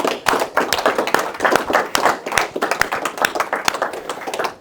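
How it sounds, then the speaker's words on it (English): A small group gives a round of applause, close and fairly loud, with uneven overlapping claps and taps that continue steadily without a break. "just another round of applause for everyone"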